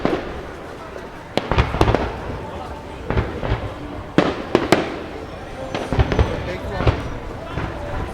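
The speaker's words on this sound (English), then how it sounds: "There's fireworks happening up there." Fireworks bursting at a crowded Bonfire Night display on a packed street, with a string of sharp cracks and booms at irregular intervals, some close together, heard from a distance over steady crowd murmur and nearby voices.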